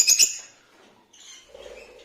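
A blue and white pet budgerigar gives a few quick, bright chirps up close, then goes quiet, followed by softer faint twittering.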